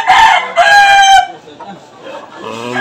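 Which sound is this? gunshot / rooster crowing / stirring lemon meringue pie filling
rooster crowing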